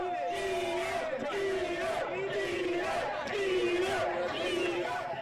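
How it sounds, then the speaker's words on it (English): A wrestling crowd at a Brantford show chants in unison for a wrestler to eat a pizza, a loud, rhythmic, repeated chant of massed voices sustained throughout. "Crowd chanting for him to eat it."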